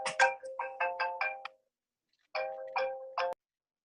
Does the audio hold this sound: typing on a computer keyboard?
no